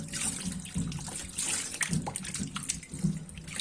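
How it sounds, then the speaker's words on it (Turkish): Running tap water splashing over potatoes being washed in a village house kitchen, a close, continuous rush broken by small knocks and handling noises. "Evet patatesleri de yıkayalım."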